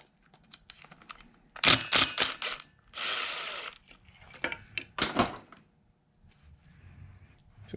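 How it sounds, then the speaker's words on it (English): A small impact driver breaks loose the screws on a Stella fishing reel during a rebuild: three loud, rattling bursts with short pauses between them and light handling clicks, with no talk. "a little impact driver like this. That way you kind of break them loose instead of you just using a screwdriver"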